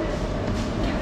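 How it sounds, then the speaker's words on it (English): A train pulls into a station in Copenhagen, its steady loud rumble and rail noise filling the whole moment with no talk over it. "Train's coming."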